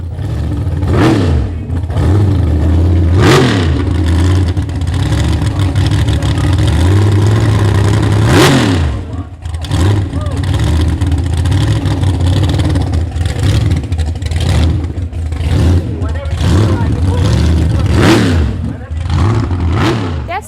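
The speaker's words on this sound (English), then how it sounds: "Jerry cracked the throttle a couple of times for an appreciative audience." A car engine rumbles loudly and revs hard several times, rising and falling, with a crowd's voices murmuring underneath.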